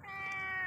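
A single short, clear meow from a cat, close and fairly quiet, with a slightly rising then falling tone and no other sounds around it.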